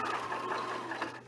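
A sewing machine stitches continuously and close by, a quick steady whirring run while edge stitching and back tacking over a seam, with no voices.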